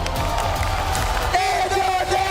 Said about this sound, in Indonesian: Jadi sekali lagi, Istora Senayan, kita minta tepuk tangannya.